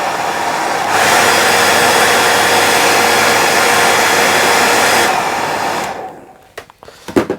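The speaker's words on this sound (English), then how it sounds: "if you hit it with a wee bit of hairdryer" A hair dryer blows loudly and steadily for several seconds on a fly-tying dry fly, then cuts off, leaving a few faint clicks and handling noises.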